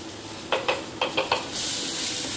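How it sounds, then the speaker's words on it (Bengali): Onions fry in a pan while Maggi noodles are prepared, a steady sizzling hiss broken by a quick run of five soft clinks or scrapes, then a louder, brighter sizzle swelling at the end. "এদিকে পেঁয়াজ ভাজা চলছে"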